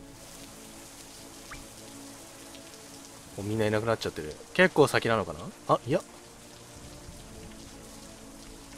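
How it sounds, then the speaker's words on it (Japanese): Steady rain patters throughout the rogue-lite action game Sephiria, a constant soft hiss under someone talking in the middle of the passage. "ちょっと雨音うるさいですけど。"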